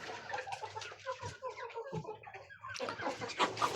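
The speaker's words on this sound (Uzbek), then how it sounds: "Bular Adlerskiy xo'rozlari." Adler breed roosters and young chicks clucking and peeping in a poultry yard, a busy overlapping chorus of short calls, fairly faint but continuous throughout.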